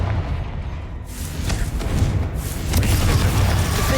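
Confringo fire spell exploding in the video game Hogwarts Legacy, a loud rumbling boom that swells and rolls on through the whole stretch, thick with low thuds.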